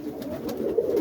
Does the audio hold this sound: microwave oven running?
no